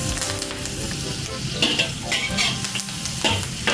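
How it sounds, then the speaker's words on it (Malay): Chili and curry leaves sizzle loudly in hot margarine in a pan for a Nestum chicken dish, with close scraping stir strokes over a constant frying crackle. "Dan terus juga masukkan cili. Kita goreng sampai wangi"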